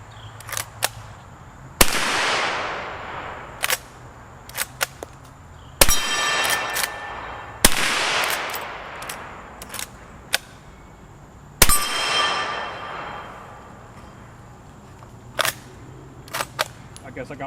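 Citadel LevTac 92 lever-action rifle shots ringing off a steel target outdoors, several sharp cracks spaced seconds apart, each followed by a metallic clang and brief decay, with quieter clicks of the lever between shots.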